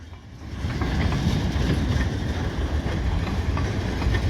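A freight train hauling log cars rolls past with a loud, steady rumble and faint wheel clatter, close by and building slightly at first, with wind noise and no talking.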